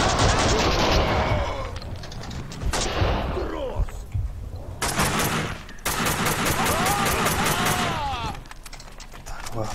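Rapid automatic gunfire rattles in loud, repeated bursts, with heavy blasts and in-game sounds from the video game Max Payne 2 in between; the shooting is close and dominant.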